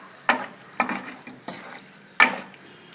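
Pepper chicken gets stirred in a pan after water is added, with four distinct scraping, sloshing strokes spaced about half a second to a second apart, close and moderately loud.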